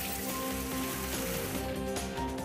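Rain falling across parts of Pimpri Chinchwad city in the evening, a continuous even hiss of drops on surfaces, moderately loud and steady, with a faint tonal bed underneath.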